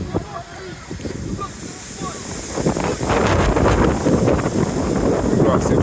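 Strong wind buffets the microphone on a windy football pitch during a youth match, a loud continuous roar that builds toward the end with faint voices underneath.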